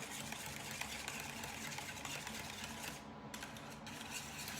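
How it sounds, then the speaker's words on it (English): Three whole eggs being whisked for crepe batter, a quiet rapid rattling whirr that runs steadily and briefly drops out near the end, with no speech. "I'm gonna go ahead and whisk this up"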